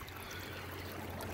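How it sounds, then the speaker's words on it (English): Water leaking steadily from a plumbing fault, a continuous soft trickling hiss held at an even, fairly quiet level throughout with no voices. "Still leaking water pretty good."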